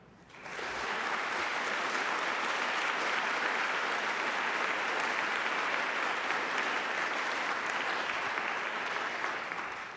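Audience applauding to welcome a speaker at a Justice Department event, sustained, even clapping from a large crowd that swells in quickly and holds steady for the whole stretch.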